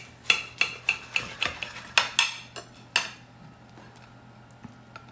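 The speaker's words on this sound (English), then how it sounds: "we're gonna cut this in half and look at it" Knife sawing through an air fried chicken sandwich, a series of about eight crisp crunchy cuts in quick rhythm over the first three seconds, close and clear, then fading to quiet.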